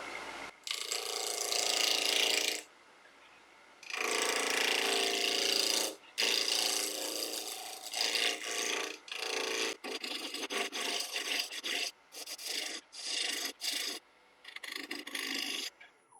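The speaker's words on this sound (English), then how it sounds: "spindle roughing gouge just to take it down to round" A spindle roughing gouge cuts a wooden spatula blank spinning on a lathe, giving rough, chattering bursts of cutting noise, alternating with quieter pauses and then shorter intermittent passes, close and moderately loud.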